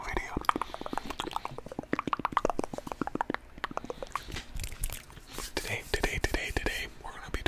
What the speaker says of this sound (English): Today, we're gonna be doing some spit painting.